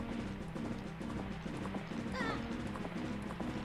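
Horse hooves clip-clopping at a gallop in Zelda: Majora's Mask, a steady rhythmic beat under game music with a brief whinny, while people talk over it.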